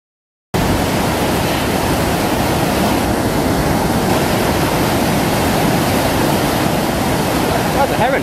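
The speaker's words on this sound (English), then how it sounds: "That's Manamass Waterfall." Manamass Waterfall in Wales, a loud, steady roar of rushing water that starts abruptly and continues unbroken, close and dense.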